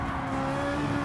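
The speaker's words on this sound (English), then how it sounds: "So now we're gonna try and drive this car at full throttle and let the engine do the talking for us" A Fittipaldi EF7 race car engine in Gran Turismo Sport runs at full throttle, holding a loud, steady, high-pitched drone with no pause for the whole short moment.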